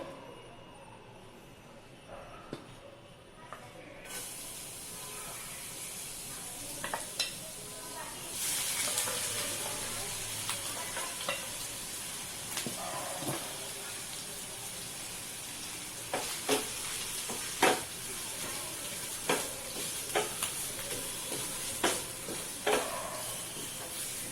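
Garlic and ginger sizzle in a little oil in a pan for veg manchow soup, a soft, steady frying hiss with occasional sharper clicks of stirring, fairly quiet and close, growing livelier partway through.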